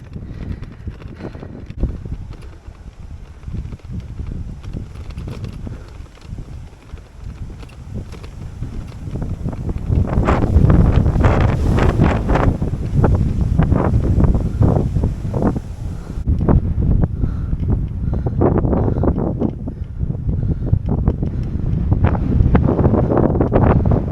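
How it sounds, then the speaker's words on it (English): Strong headwind buffets the microphone while cycling a mostly flat road in Greece, a loud continuous rumbling roar that swells and gusts, growing heavier about halfway through and staying steady with no voices. "Quite a strong headwind."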